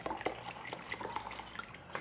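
Fresh dechlorinated water poured into a terrarium container gives a faint, close trickle with small splashing drips, steady and quiet throughout.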